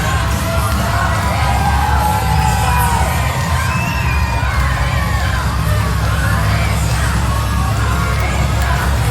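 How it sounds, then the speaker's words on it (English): A wrestling crowd at a backyard show in New Iberia, Louisiana roars in a steady, loud ovation for the champion, with yells and whoops rising over continuous cheering throughout. "just listen to the ovation for the champion."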